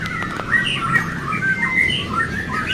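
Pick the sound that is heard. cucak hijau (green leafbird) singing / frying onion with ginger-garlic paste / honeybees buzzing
cucak hijau (green leafbird) singing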